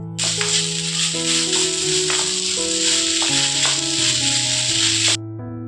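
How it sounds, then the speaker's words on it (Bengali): Water poured into a pot of rice fried for pulao sets off a loud, steady sizzling hiss that lasts about five seconds and then cuts off, with music playing underneath. "চালটা সুন্দর ভাজা ভাজা হয়ে গেছে, আর এখন দিয়ে দিচ্ছি জল।"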